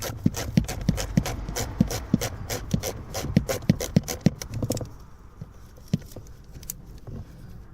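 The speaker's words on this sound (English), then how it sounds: "So get your T20 and start undoing these screws." Small metal clicks and ticks from a T20 Torx driver undoing screws on the cabin filter cover of a Ford Fiesta, a quick irregular series close by that thins out and turns quieter partway through.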